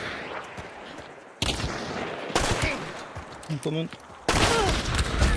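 Gunfire in a multiplayer shooter video game comes in loud, dense bursts that start and stop abruptly, with brief quieter gaps between them and a voice speaking briefly.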